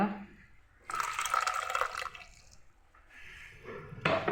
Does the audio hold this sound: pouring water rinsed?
yes